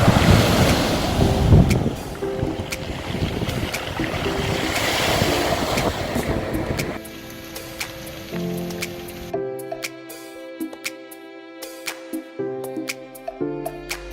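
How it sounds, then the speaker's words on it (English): Sea waves wash and surge along a Tasmanian shore, a loud broadband roar with wind buffeting the microphone, easing into a quieter stretch with faint tonal background sounds toward the end. "The sea's just making the best noise."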